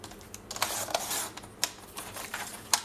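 Scrapbook paper for a scrapbook album page being cut, two sheets at once, giving a series of short, crisp snips and rustles at close range with brief gaps between them and no voices.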